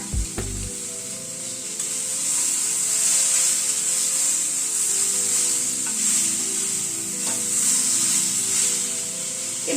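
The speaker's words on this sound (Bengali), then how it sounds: "পোস্ত আর নারকেল বাটাটা দিয়ে এই মিনিট 2 মতো একটু নাড়াচাড়া করে নিলাম।" Bitter gourd and eggplant fry in a pan with poppy seed and coconut paste, giving a steady loud sizzle under soft scraping and stirring from a spoon. The sizzle runs continuously with no voices.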